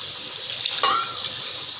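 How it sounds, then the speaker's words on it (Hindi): A brief, soft splash of one cup of water being poured into a cooking pot of fried chickpeas, lasting about a second against a quiet background. "अब हम इसमें 1 कप पानी ऐड करेंगे,"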